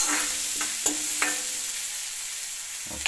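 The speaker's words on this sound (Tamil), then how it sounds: "இப்போ வதக்கலாம் லைட்டாக" Ingredients for semiya upma sautéing lightly in a pan, a continuous bright sizzle with a few soft spoon taps and scrapes, close up and with no talking.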